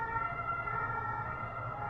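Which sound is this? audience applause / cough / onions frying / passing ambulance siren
passing ambulance siren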